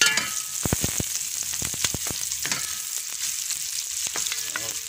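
Squid adobo in coconut milk sautés in a pan with a loud, steady sizzle, broken by sharp clinks and scrapes of a spatula stirring it.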